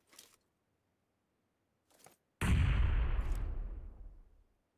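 Gunfire from a bot in the PUBG Mobile battle game: two faint distant pops, then one loud, close burst of shots that rings out and slowly fades over a couple of seconds, with no talking.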